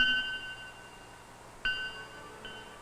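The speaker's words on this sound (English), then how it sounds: "This kind of floating marker, called a bell buoy, also warns of rocks and shallow water." A bell buoy in a harbor rings with a single clear metallic ding at the start and another strike later, each tone ringing and fading over a quiet background.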